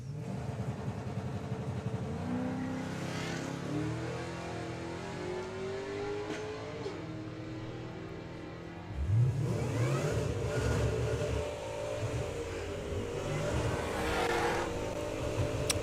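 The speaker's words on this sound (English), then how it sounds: "As our next pair roll forward, Jordan Griffin with the Suzuki Swift Sport" Two drag race cars, a Suzuki Swift Sport and a Blue Temptation Camaro V8, launch and accelerate down the strip with loud, rising engine revs and gear changes, a harder burst of power near the middle.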